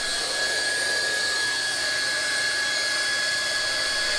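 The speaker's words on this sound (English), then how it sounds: "hot welding of internal and external miters" A Triac hot air welding gun welding the internal and external miters of vinyl safety flooring gives a steady, loud, unbroken blowing hiss with a fixed high whine for the whole stretch.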